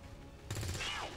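An XCOM soldier fires a weapon, and a sudden loud burst cuts in partway through over quiet ambience, followed by a brief whooshing sweep.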